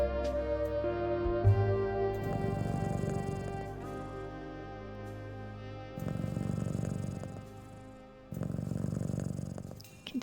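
A cat purrs in the Best Served Cold video game, low rumbling bursts over soft background music that rise and fade three times, fairly close and moderately loud.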